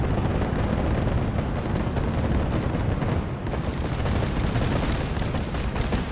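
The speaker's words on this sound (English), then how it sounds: "I wonder what the unholy racket of Gauss cannon fire was. It's Finch Farm defending itself." Continuous loud barrage of Gauss cannon fire in Fallout 4, a dense, unbroken roar of blasts and crackling impacts from a settlement defending itself, with no talk.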